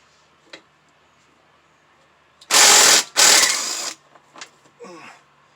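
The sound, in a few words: ratcheting off a 3/8 bolt on a mower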